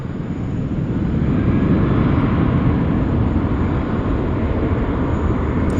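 A Cathay Pacific airliner taxis at Sydney Airport, a loud, steady, close jet engine rumble and whine that holds evenly throughout with no talk.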